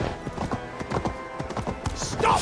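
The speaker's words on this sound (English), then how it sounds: "Stop that horse!" Horse hooves clip-clop steadily and briskly in Assassin's Creed Valhalla, a rhythmic run of close hoofbeats over ambient game sound.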